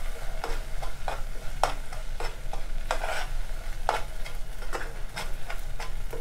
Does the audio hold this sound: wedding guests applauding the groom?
no